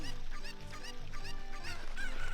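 Chicken clucks from The Legend of Zelda: Ocarina of Time, heard as a run of short, bright, nasal squawks repeating at a steady rhythm over a constant game music bed.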